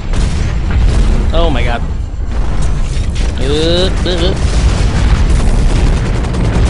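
Turret gunfire and explosions in the mech combat game Hawken form a continuous loud, booming rumble throughout, with someone talking and exclaiming over it.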